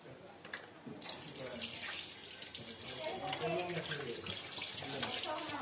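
Water runs from a household tap into a bottle in a home, a steady near gush that starts abruptly and keeps flowing throughout, with voices talking faintly over it.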